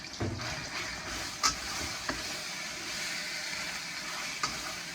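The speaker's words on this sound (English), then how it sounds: "we're going to start stir frying that" Soft, steady sizzling of marinated chicken stir-frying in a hot wok with occasional scraping stirs and light clinks, no voices.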